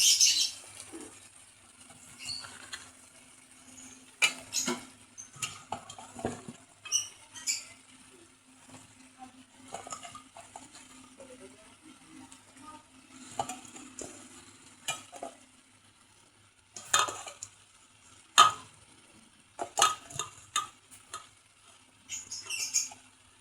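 Chayote sautéed with beef in a pan, with a quiet, sparse sizzle and repeated scraping stirs and clinks of a utensil coming in irregular bursts, close but soft, and no talking.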